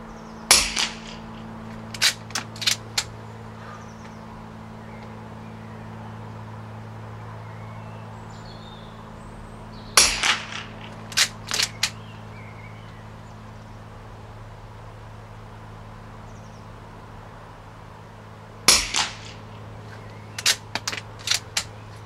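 Sharp .22 LR rifle shots at an outdoor range, fired at 25 to 50 metres with CCI Stingers high-velocity ammunition, coming in three spaced clusters of several loud cracks each, with quiet ambience between volleys.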